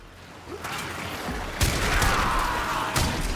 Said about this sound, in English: The explosion is handy though,